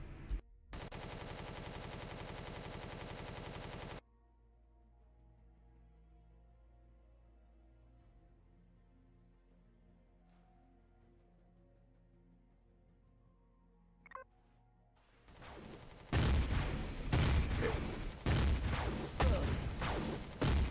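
Automatic weapon fire rattles in Empyrion: Galactic Survival, with a dense, loud burst at the start, then a quiet stretch, then another sustained volley of rapid shots near the end.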